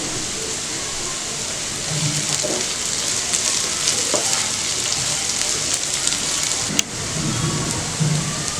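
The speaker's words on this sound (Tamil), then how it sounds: "வதங்கட்டும். கொஞ்சம் கறிவேப்பிலை போட்டுக்கலாம்." Curry leaves sautéing in hot oil for a mutton chukka fry, giving a steady, close sizzling hiss with a few soft stirring knocks and one sharp tap near the end.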